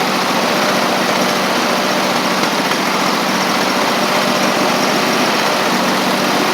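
A Husqvarna YTH24V48 riding mower's twin-cylinder engine runs steadily on a new carburetor, a loud, constant close-up roar with a slight stumble and no talking.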